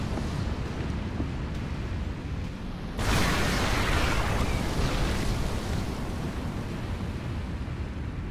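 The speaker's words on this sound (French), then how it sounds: "Notre colonie a à peine survécu à cette explosion" A nuclear strike in StarCraft 2 erupts as a dense, sustained roaring blast that swells suddenly and stays loud, a wide rumbling wash with no voices over it.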